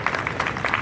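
Audience applause at a French live stage event, a dense steady patter of many hands clapping at moderate volume with no pauses.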